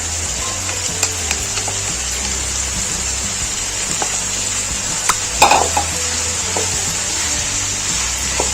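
Chicken pieces and tomatoes sizzle steadily in a pan as they are stirred, a continuous frying hiss with occasional scraping clicks and a small clatter of the spoon against the pan, no talking.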